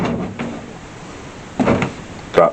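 A room door being shut to seal off a room during floor leveling and minor construction work, heard as a couple of short knocks and a firmer closing thud near the end, close by.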